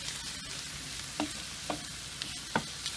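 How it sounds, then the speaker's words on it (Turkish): Dry bulgur grains tipped into a hot pan and stirred, giving a steady low sizzle with a few sharp scraping clicks from the spoon, close by and without talk. "Evet, şimdi bulgurlarımı atıyorum. Şöyle şunları bir çevireyim."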